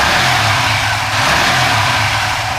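A car engine revs close up as the throttle is opened during live ECU tuning, giving a steady, loud, rough mid-pitched roar that holds through the whole stretch with only slight swells and no talking over it.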